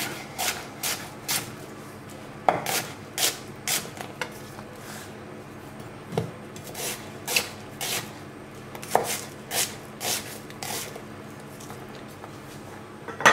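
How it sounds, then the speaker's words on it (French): Steady knife chops through red onion on a cutting board, a quick rhythmic series of crisp taps with short pauses, close and clear with no talking. "On va prendre l'oignon rouge. Pareil, on va le couper."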